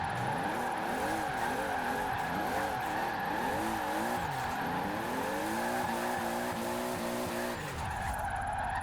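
A 1600-horsepower Toyota GT86 drifts in the racing video game Forza Horizon 4, its tires squealing continuously in wavering, rising and falling screeches over the engine note for several seconds before easing off.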